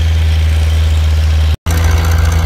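A John Deere 820 tractor engine at a plow day in Claremont, Minnesota runs close and loud with a deep, regular throb, dropping out for a moment before carrying on.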